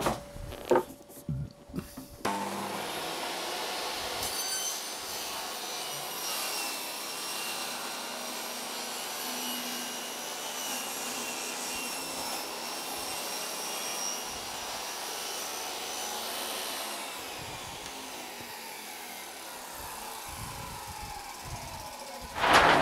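A saw cuts steadily through a wooden board with tape laid over the cut line to support the fibres, a continuous rasping drone lasting about twenty seconds, close and loud, with brief knocks just before and after.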